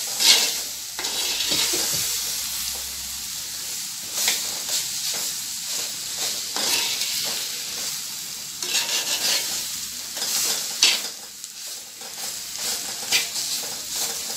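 Raw jackfruit poriyal is stir-fried in a clay pot, with a steady sizzle of frying and repeated scraping stirs of the spoon against the pot, close and continuous throughout.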